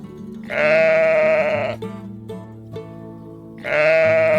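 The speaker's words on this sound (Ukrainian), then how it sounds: "Хто це? Вівця." Two loud, drawn-out sheep bleats close by on a farm, the first long and wavering, the second starting after a short pause; no talking.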